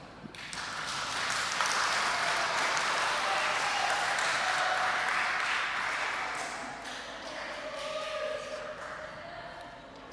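A church congregation at HKBP Tamarunang applauds during a Sunday service, a broad wash of clapping that swells quickly, holds for several seconds and slowly tapers off.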